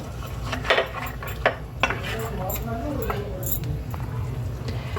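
A spoon stirs dry korma masala spices in a pot of Hyderabadi beef korma, giving a few clinks and scrapes against the metal, with a voice talking over it.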